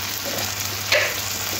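Tomato and onion with spices fry in a pan for a spicy Bengali fish and potato curry, giving a steady close sizzle with a brief louder crackle about a second in.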